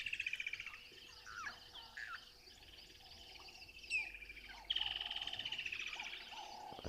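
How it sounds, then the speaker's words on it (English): Crested barbet and blue waxbill calls ring out in open bush above Gari Dam, a mix of rapid trilling and thin high whistles, faint and somewhat distant, with no voices. "There's a crested barbet as well joining in all the bird vocals. I can hear some blue waxbills too."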